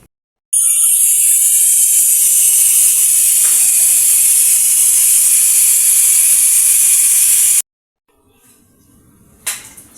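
A pressure cooker full of beans lets out a loud, steady, high-pitched hiss of steam for about seven seconds and then stops abruptly, followed by faint clatter and a brief knock.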